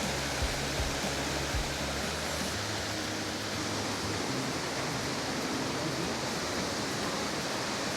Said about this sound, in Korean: 저쪽 앞에도 폭포가 있는 것 같아요.